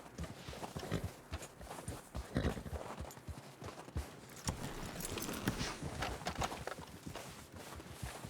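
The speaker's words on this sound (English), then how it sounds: "You hear the horse?" Horse hooves clip-clop steadily over hard ground, with a jangle of tack, heard close and continuous, in the video game Red Dead Redemption 2.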